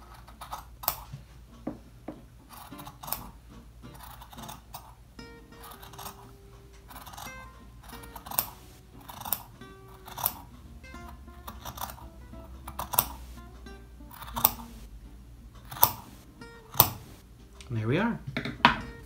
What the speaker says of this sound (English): So I've got a nice sharp pair of scissors, and I'm gonna go right on that line between the two lines that I stitched